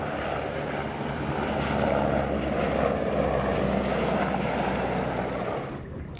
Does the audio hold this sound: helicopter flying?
yes